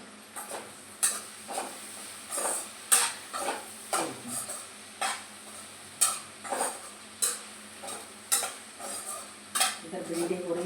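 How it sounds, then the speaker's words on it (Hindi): Utensils and tea pots being washed at a home kitchen sink as okra cooks nearby: a steady series of clanking, scraping metal dish knocks roughly every second, close and fairly loud, with no talking. "मैं बर्तन वगैरह भी साफ कर देती हूँ"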